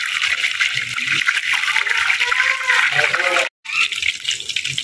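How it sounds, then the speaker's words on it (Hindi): Garlic, cumin and green chillies sizzling and crackling in hot desi ghee as a tempering for sarson ka saag, a loud continuous frying hiss close up with a brief cut near the end. "इसका लगाएंगे साग को तड़का।"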